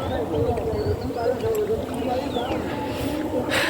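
A boat carries a passenger across water in a Bangladeshi village, giving a steady wash of water and hull noise throughout, with voices talking faintly over it.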